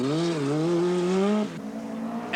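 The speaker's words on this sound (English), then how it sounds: "Ricola in the second Rothmans Escort is breaking his run of bad luck on this rally" A rally car on the 1982 Lombard RAC Rally, such as a Rothmans Ford Escort, roars past with a loud, rising then falling engine note that drops sharply as it goes by.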